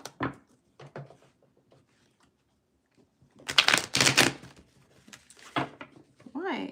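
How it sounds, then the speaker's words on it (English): Crisp bursts of tarot cards being riffled and bridged, the loudest flurry in the middle, with short shuffles before and after and a brief voice near the end. "I'm being told to do one more shuffle."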